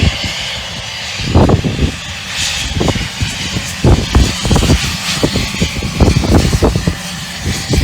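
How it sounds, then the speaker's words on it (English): A Falcon jet's engines roar loudly and steadily, the drone swelling and wavering with repeated bursts, heard close without speech. "Falcon jet. There's the other one down there."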